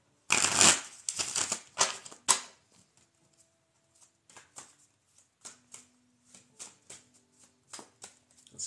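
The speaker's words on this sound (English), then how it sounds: "Let's cut the deck real clear." A tarot deck being shuffled and cut, starting with several dense riffling bursts, then sparse soft taps and card slaps spaced out over the remaining seconds, close and quiet with no talk.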